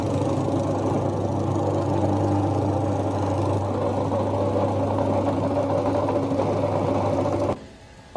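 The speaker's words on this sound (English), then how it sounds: "we're going to feature this really cool machine, the Weber roller compactor. This one's the VPR 700 in particular." A Weber VPR 700 roller compactor runs on pavers, a loud, steady mechanical drone with a low pulsing hum that continues unbroken for several seconds before stopping abruptly.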